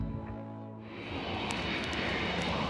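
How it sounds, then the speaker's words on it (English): A propeller or jet airplane passing overhead, its roar swelling from a quieter start into a broad, loud rushing drone, heard outdoors in Sydney with no talking. "Another plane flew by."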